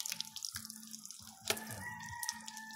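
Running water from a tap rinses an Amazon sword aquarium plant, with steady splashing and dripping close by and a brief louder gush midway.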